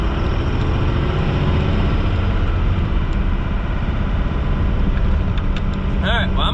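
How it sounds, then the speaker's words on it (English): Tuned second-generation Cummins diesel truck engine revved with light throttle, a steady loud broadband roar with turbo whine, close and continuous, rising slightly near the end. "you can hear the turbo"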